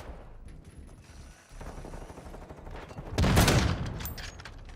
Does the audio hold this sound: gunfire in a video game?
yes